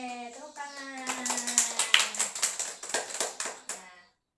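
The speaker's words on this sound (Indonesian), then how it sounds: "Oke, tepuk tangan." In a practice teaching session for a Christian religious education class, voices speak briefly, then the class claps in a quick, rhythmic run of a dozen or so crisp, close claps that stop abruptly.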